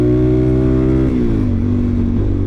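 A Suzuki DRZ400SM motorcycle engine with a Lectron carburetor, running out of tune, holds a loud, steady buzzing rev up close that dips and settles lower partway through without a break.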